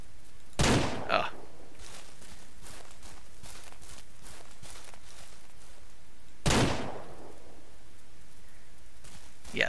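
Two loud, sharp pistol shots in the video game Ranch Sim ring out several seconds apart, each with a short echoing tail, over faint game ambience and soft footsteps.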